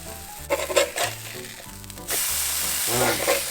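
A thin beef burger patty sizzles loudly in a hot pan, a steady frying hiss with bursts as it is pressed down, close up and without speech.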